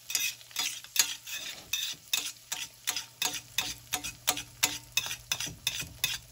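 A smoked pork chop fries in melted butter in a pan, a steady sizzle punctuated by evenly spaced scraping strokes about three per second, close and fairly quiet.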